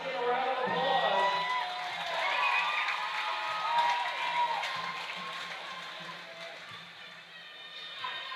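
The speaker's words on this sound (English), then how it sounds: "Let's give a round of applause." A crowd at a high school boys basketball game applauds and cheers in a diffuse, echoing gym, with whoops and claps rising then fading over several seconds.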